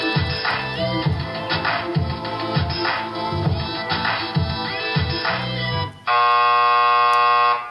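Quiz-show countdown music with a steady beat plays for several seconds, then a loud, sustained electronic buzzer sounds abruptly and holds to the end.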